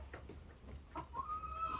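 A flock of about 25 chickens clucks on a small farm, soft scattered clucks at middle distance, followed by a brief sustained whistling tone.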